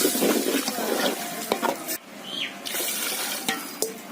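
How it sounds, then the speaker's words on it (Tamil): Water runs from a tap into a cooking pot while katla fish curry is being made, a steady close splashing stream that breaks off briefly partway through with a few clinks. "தேவையான அளவு தண்ணி"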